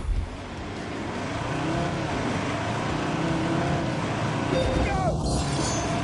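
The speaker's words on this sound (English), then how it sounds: "I am racing a pickup truck off-road in Wales to refuel a helicopter." A 3.2-litre five-cylinder pickup truck engine drones steadily under heavy rumbling road and wind noise while racing off-road in Wales, with a person talking over it throughout.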